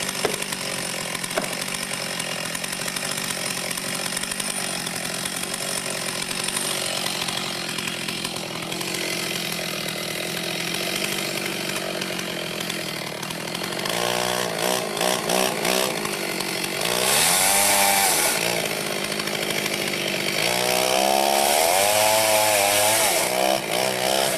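Chainsaw with a 36-inch bar cutting wood, a loud continuous whine that bogs and revs as the chain bites in, with pitch swoops in the later cuts.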